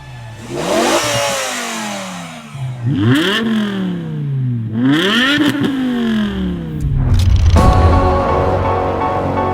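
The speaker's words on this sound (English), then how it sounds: "This one's been lowered on BC racing coilovers, and as you can hear, has a muffler delete." Lowered 2006 BMW M5 E60 sedan with a 5-liter V10 and muffler-delete exhaust, revved hard several times in quick succession, each blip rising and falling sharply, loud and close before settling into a raspy idle.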